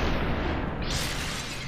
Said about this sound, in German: Da schießt jemand.